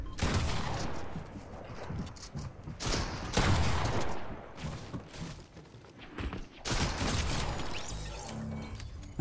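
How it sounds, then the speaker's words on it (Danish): SMG fire in the video game Fortnite, rapid bursts that come thick and loud through most of the stretch, mixed with other game action and breaking off briefly near the middle before resuming. "Jeg tog en SMG med, bare lige for at prøve det her."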